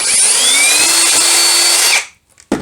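A cordless screwdriver whirs loudly at high pitch for about two seconds, then abruptly stops as the clutch cuts out, followed by a brief click.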